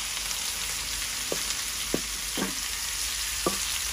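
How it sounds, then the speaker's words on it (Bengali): Spinach frying in hot oil with garlic for a Bengali tempering, a steady close sizzle with a few soft stirring clicks scattered through it and no talk. "বাগার দেওয়ার সময় হয়ে গেছে"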